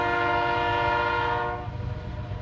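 A train passes close to a parked car overnight, its horn blaring a loud, sustained multi-tone chord that fades after a second and a half into rumbling wheels on the rails.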